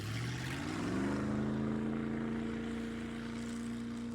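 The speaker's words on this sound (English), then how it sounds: "The engine cries out urgently, sounding like it's about to explode or break apart at any minute." A boat engine roars steadily at sea for an audio drama, a loud, strained mechanical drone whose pitch rises early and then holds as a sustained, straining hum, with no voices.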